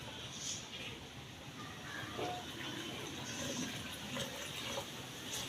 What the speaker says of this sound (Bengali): আমি 2 কাপ চাল দিয়েছি, তার জন্য 4 কাপ জল দেব।